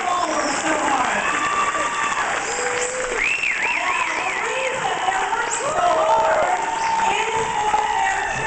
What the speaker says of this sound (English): Have a big round of applause for 2010.